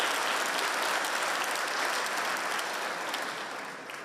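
An audience applauds a concert of national music traditions at a conductor's 65th jubilee celebration: dense, sustained clapping from a large crowd that tapers slightly toward the end.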